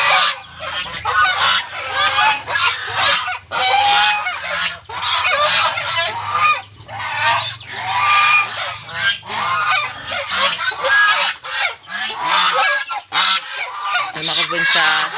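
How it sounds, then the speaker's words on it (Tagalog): A flock of geese honks loudly and almost continuously, harsh overlapping calls in bursts with brief gaps, close by. "Ito na yung ating mga alagang gansa."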